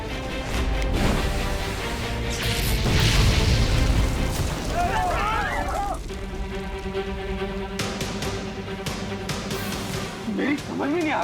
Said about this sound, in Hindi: मेरी समझ में नहीं आ रहा कि सिर्फ सीट्स और लगेज के जलने के कारण ये इतना जोर का धमाका कैसे हो रहा है?